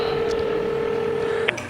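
Telephone keypad tones: one long steady dialing beep holds for over a second, ending in a short burst of higher key tones, loud and close with no one speaking.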